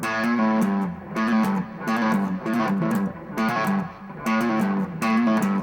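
A distorted electric guitar repeats a short bluesy pentatonic lick started on the 6th string in quick bursts, with brief pauses between each pass.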